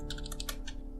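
Quick keystrokes tap on a computer keyboard as a password is typed, a short burst of about six to seven close, crisp clicks with no voices.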